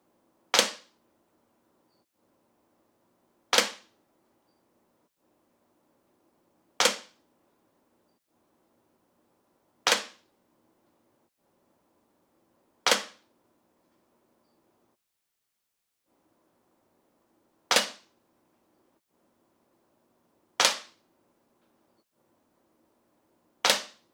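A Crosman 1377 air pistol fires at a target 10 yards away, each shot a sharp, dry pop over faint background hum, eight shots in all spaced a few seconds apart with a short gap partway through.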